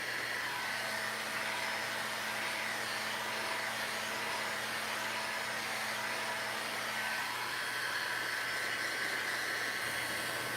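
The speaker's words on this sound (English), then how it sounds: "I'm gonna dry this real quick" A dryer blows steadily over freshly applied Dixie Belle paint, a continuous close, loud airy whoosh with no break, its pitch shifting slightly near the end, alone without talk.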